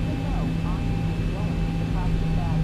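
Boeing 737-900 jet engines idle and rumble while the airliner taxis in X-Plane 11, a steady broadband roar with a faint high whine and brief chirping sounds over it, no speech.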